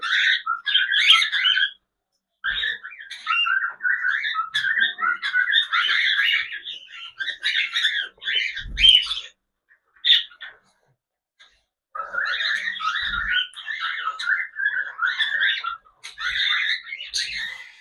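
Several pet cockatiels chirp in bursts of bright, rapid tweets and short calls, close by, with gaps of quiet between the flurries.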